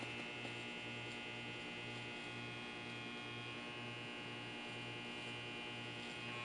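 Electric hair clippers running during a faded wave brush cut, a steady low buzzing hum with a faint rhythmic pulse, continuous and fairly quiet throughout.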